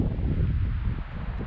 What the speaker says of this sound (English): There's the wind gusting.